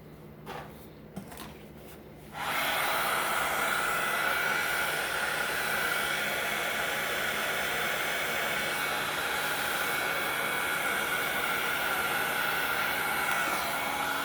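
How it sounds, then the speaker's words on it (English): A hair dryer blow-dries a handmade card, switching on after a few faint clicks and handling sounds, then blowing as a loud, steady whooshing hiss that continues to the end. "So now I'm going to take it and blow dry it a little bit more."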